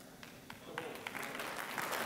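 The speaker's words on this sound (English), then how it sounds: "And all the ladies are clapping." Women in a church congregation clapping, scattered claps that build into a busier patter over a soft room murmur, fairly faint and brief.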